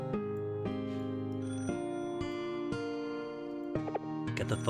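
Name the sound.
telephone ringing in a video game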